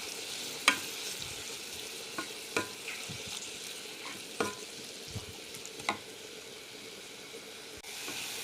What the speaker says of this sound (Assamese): খৰিচাখিনি দি দিয়াৰ পিছত মই অকণমান লৰাই দিম।